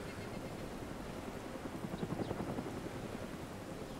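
In the DayZ video game, a helicopter hovers above, its rotor droning in a steady low beat that swells slightly midway, continuous and unaccompanied by talk.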